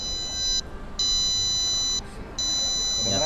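A JBL Live Buds 3 earbud sounds its Find My Buds locating alert. It plays high, pure beeping tones in three on-off bursts, loud and close over room noise, with brief rustling between them.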